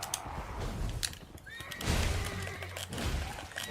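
Horse neighing in the Elden Ring video game: a loud, shrill whinny close up, then a second one, mixed with hoof clip-clops and other game sounds.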